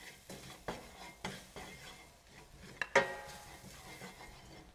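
Spices and ginger garlic paste being stirred and roasted in a kadhai for kadhai paneer, giving soft scraping stirs, light metallic clinks and a faint sizzle, with one sharper clank near the end.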